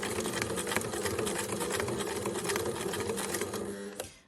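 A sewing machine running continuously as it stitches through the webbing on a beginner's tote bag, giving a steady, fast mechanical rattle that stops abruptly at the end, close and alone.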